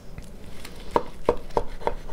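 A knife cuts through the thigh joint of a roast turkey, four crisp, evenly spaced chopping knocks against a board, close and alone.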